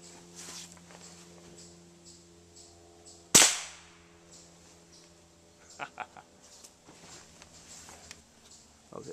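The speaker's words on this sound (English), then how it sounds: "Now, I'm not used to shooting off the top of my grill as a bench rest" A rifle is fired in a backyard from a grill top used as a bench rest at a target about 12 yards away: one sharp, loud crack with a short decay, then faint shuffling and handling noises.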